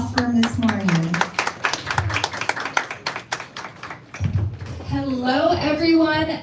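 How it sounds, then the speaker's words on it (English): At a live beauty-pageant franchise press conference, an audience greets a former Miss Globe with a dense patter of clapping. It swells for a few seconds between stretches of a voice speaking near the microphone. "So, round of applause for Miss Maureen."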